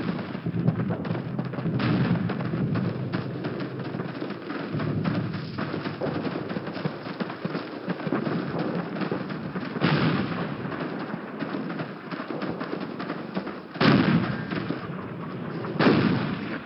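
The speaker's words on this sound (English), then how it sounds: "Two MG-42s up ahead." MG-42 machine guns fire in a Call of Duty battle at Brecourt Manor, loud sustained bursts of rapid gunfire with heavy booming impacts that surge at intervals over continuous battlefield din.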